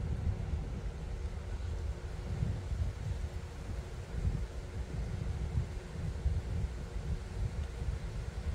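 A steady low rumble of wind, about 15 miles per hour, buffets a DJI Air 3 drone in flight, a constant moderately faint roar with no voices.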